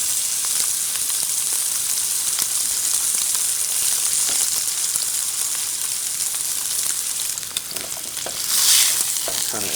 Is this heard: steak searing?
yes